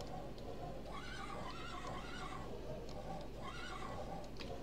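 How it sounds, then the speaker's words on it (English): A horse in the block-building game Minecraft neighs twice in a row, each whinny a wavering call rising and falling, heard fairly close over a steady background hum with no talking. "Let's listen to a horse."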